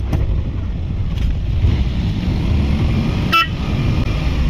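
A single short car horn honk at the car ahead, heard during a road trip and sounding out briefly over steady engine and wind rumble.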